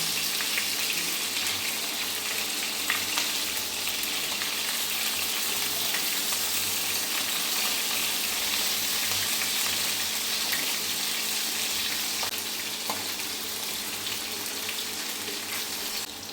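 Sea fish fry in hot oil until browned, giving a continuous, even sizzle and crackle with no voices over it.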